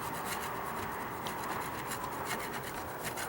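Scraping old filler off wooden deck stairs gives a steady, close rasping scrape that runs without a break and is heard alone.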